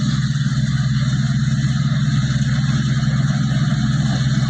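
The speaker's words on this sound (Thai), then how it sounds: "นี่ครับเป็นรถเจียวใหญ่นะครับ" A large rice combine harvester works in a harvest-season field in Kaeng Khro, Chaiyaphum, its engine close by, giving a loud, unbroken low drone with no talk.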